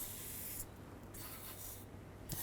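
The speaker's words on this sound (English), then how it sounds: "I'm just going to spray some rust penetrant in the bolt holes and around the back side of the hub" Rust penetrant hisses from an aerosol can into the bolt holes and around the back of a rear wheel hub on a 2011–2014 Chrysler 200, in steady broadband bursts broken by two short pauses.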